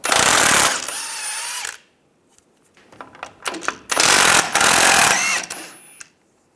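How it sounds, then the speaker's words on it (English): A power tool with a 21mm socket removes nuts from a differential bracket on a 2007-2013 Chevrolet Silverado, two loud whirring bursts separated by a pause with metallic clicks and clanks. "Using a 21mm socket, take these nuts out."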